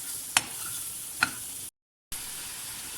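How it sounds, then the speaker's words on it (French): Butter and flour cook over low heat in a pan for béchamel sauce, giving a steady soft sizzle with a couple of sharp clicks from stirring and a brief silent break. "On commence avec la farine et beurre avec un feu doux, comme ça, c'est pas brûler la farine."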